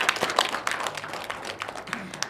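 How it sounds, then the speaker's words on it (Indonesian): Light scattered applause from a forum audience on flooding issues, a short burst of uneven claps at moderate distance, without talk. "Boleh tepuk tangan untuk kita semua."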